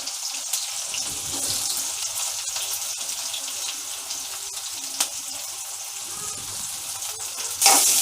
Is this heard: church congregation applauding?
no